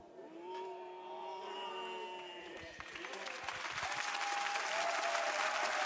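A television studio audience breaks into applause after a singer's performance in a competition final, a wash of clapping that builds and grows louder toward the end, mixed with a sustained tone and a voice at the start.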